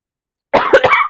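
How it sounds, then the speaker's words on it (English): A single short, close cough bursts out after a moment of silence. "I apologize for the cough"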